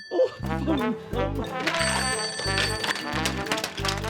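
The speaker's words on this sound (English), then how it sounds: "Answer the phone before it wakes up Grandad Tumble." A telephone rings in a quiet house with a repeated electronic trill in regular short bursts over about four seconds, fairly close and steady.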